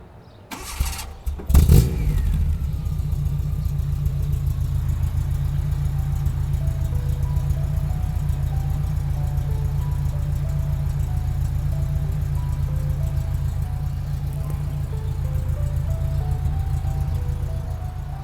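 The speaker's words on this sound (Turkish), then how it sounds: "Dilerseniz arkadaşım arabayı bir çalıştırsın. Egzoz sesini de duyalım beraber." A Tofaş car engine cranks and starts with a brief burst, then settles into a steady, loud exhaust rumble that holds for the rest of the clip.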